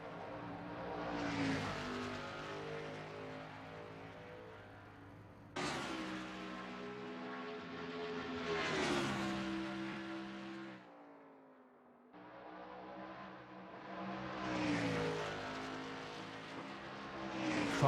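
A 1977 Ford Mustang race car laps Phoenix in three passes, each a swelling engine roar that climbs through gear changes and then fades as it goes by, heard at a distance without talk.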